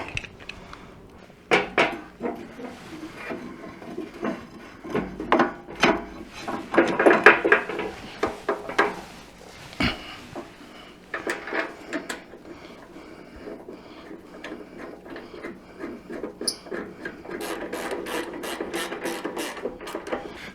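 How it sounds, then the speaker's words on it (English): A ratchet tightens the pinch bolts on a wheel's front axle, giving bursts of rapid clicking with pauses and occasional metallic clinks of the tool, close and clear, without talking. "Let's tighten up our pinch bolts."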